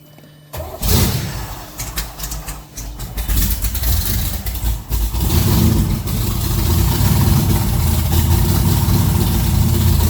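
A project car's engine cranks and fires after one pump of fuel with the gearbox in neutral, then settles into a loud, steady, rough idle close by.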